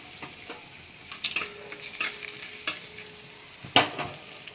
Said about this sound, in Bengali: এগুলো একটু এই বাটারের সাথে ভেজে নেবো ভালো করে